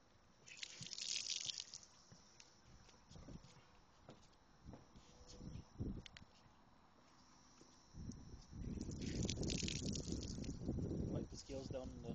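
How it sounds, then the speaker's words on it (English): Water rinsing the deck of a boat while a pike is scaled: splashing and pouring comes in bursts between knocks and clatters, with people talking throughout. "Rinse out the deck a little bit."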